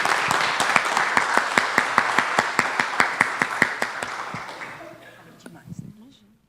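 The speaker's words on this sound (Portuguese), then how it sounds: "uma salva de palmas para nós" A small audience at a municipal nursing protocol launch event claps together in a steady, evenly spaced rhythm of sharp claps, fading out after about five seconds as faint voices and movement follow.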